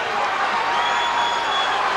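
A boxing arena crowd in the Michael Nunn vs James Toney fight cheers in a loud, steady roar that holds without pause, with a faint whistle-like tone above it.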